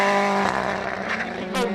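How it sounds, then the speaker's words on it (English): A Ford Fiesta World Rally car at a rally in Germany runs roughly, its engine droning with an uneven, misfiring rasp, loud and close throughout. "Very sick-sounding Fiesta there"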